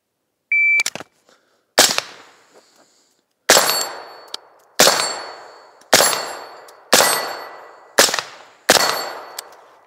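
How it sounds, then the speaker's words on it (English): Gunshots ring off steel targets at a shooting range, about eight separate sharp cracks each followed by a bright metallic clang and decaying ring, spaced roughly a second apart, loud and close. "Just do some more shooting"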